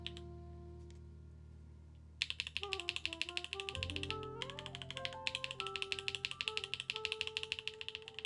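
Typing on a Keycult mechanical keyboard fitted with ABS GMK keycaps, a quick run of close, clacky keystrokes that starts about two seconds in after a quiet hum and continues steadily to the end.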